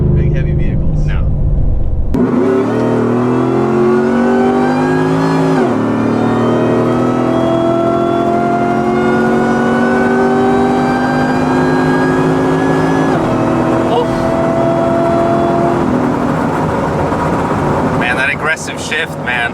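A Ford F-150 pickup truck with a new engine roars loud and near, its pitch rising as it accelerates through the gears. The pull is sustained and drops in pitch at each shift, with a voice briefly audible near the end.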